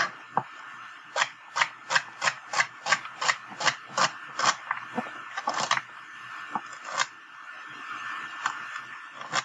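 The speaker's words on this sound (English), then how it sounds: "Just chop down your celery in" Knife chopping celery into half-inch pieces on a cutting board, a quick run of about a dozen crisp, evenly spaced taps that slows into scattered cuts.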